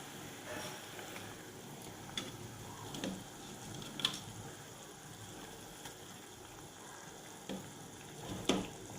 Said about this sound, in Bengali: এবার এরপর আমি মাছটা অ্যাড করব। দেখুন বন্ধুরা, আমি ঝোলটা ফুটছে